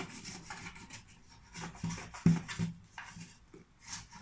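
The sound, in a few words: spatula scraping bread loose from a bread machine pan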